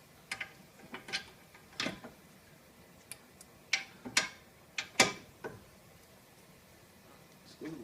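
Ratchet snugging brake bolts on a Hyundai Elantra during a brake replacement, giving irregular short clicking bursts of varying loudness, close and alone with no talk.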